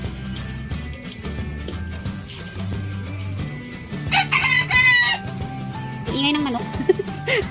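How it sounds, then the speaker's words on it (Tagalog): A rooster crows loudly and close by, a few long calls rising over a background of clucking hens and other farm noise in the Philippines. "Ingay ng manok."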